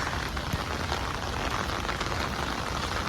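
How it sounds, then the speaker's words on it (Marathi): Steady rain patters on surfaces at the Ellora Caves, a dense, even hiss of droplets that keeps going without pause and with no voices. "मस्त पाऊस सुरू आहे इकडे"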